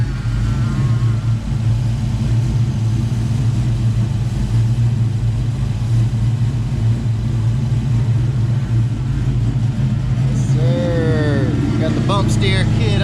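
A Coyote-swapped 1985 Mustang GT runs loud and close with a steady rumbling idle, then revs rise and fall near the end while people talk over it.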